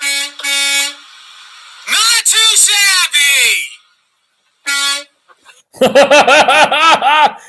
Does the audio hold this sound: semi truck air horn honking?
yes